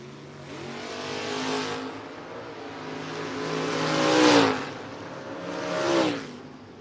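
At a drag strip, a Camaro and an orange pickup truck launch, engines revving in rising, swelling waves with a harmonic whine, loud and close, with two strong surges near the end.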